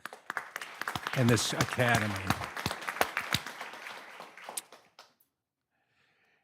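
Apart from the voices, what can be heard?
audience applause at a school board meeting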